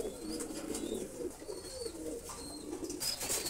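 Golden pigeons coo softly at close range in a quiet setting, with repeated low, throaty calls and faint background chatter from other birds.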